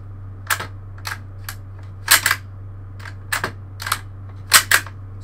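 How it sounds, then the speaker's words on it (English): A 1939 Lee-Enfield No. 1 Mark III rifle has its bolt worked indoors, producing sharp metallic clacks in spaced pairs and clusters over a steady low hum, with no talk. "I'll just demonstrate the bolt still works on this."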